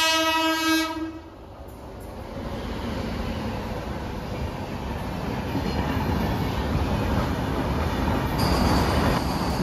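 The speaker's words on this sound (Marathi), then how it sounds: "मुंबई मडगाव वंदे भारत." The Mumbai–Madgaon Vande Bharat express passes on the Konkan Railway in monsoon weather, opening with a sustained horn blast before a loud, steady roar and rumble of the train rushing by close, continuing to the end.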